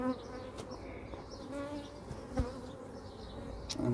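Honeybees buzz steadily around a beehive in a UK garden apiary, a close, continuous droning hum with individual bees passing near, and no talking.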